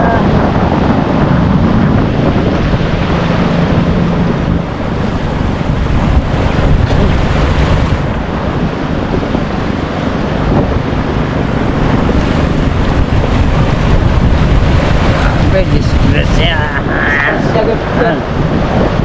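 Strong wind roars across the sea around a small outrigger boat, with constant heavy buffeting against the microphone and waves slapping the hull beneath it.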